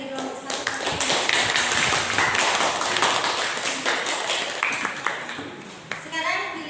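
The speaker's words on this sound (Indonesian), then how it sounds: "kita beri tepuk tangan untuk teman kalian dari kelompok 1." A burst of clapping from a class of children, lively and sustained, with children's voices chattering underneath before it tapers off.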